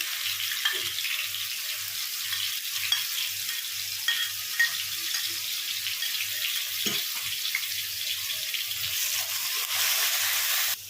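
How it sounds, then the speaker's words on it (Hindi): Whole spices fry in hot oil over a medium flame for a yogurt jackfruit curry, giving a steady, dense sizzle that runs throughout with a faint regular low hum underneath and no talking. "मसाले को हम मीडियम फ्लेम पे तब तक भूनेंगे जब तक कि मसाले में से हमारे तेल न छोड़ दे।"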